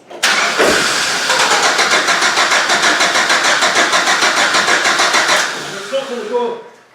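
A GM Vortec engine with a fuel supply problem cranks over without firing, the starter's rapid, even churning loud and steady for about five seconds before stopping.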